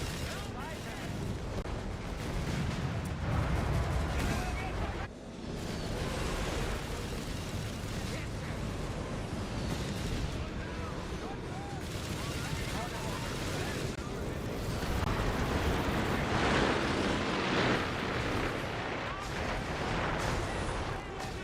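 Nebelwerfer rocket artillery firing in the video game Company of Heroes 3: dense, rumbling barrage of launches and explosions filling the scene at moderate level, with battle noise continuing under a person talking and game voice lines.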